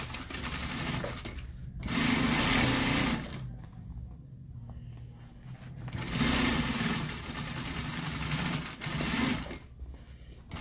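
Sewing machine stitching several stacked fabric layers of a crossbody bag in two fast, steady bursts of about two seconds each, close and clear, with quieter handling noise between runs.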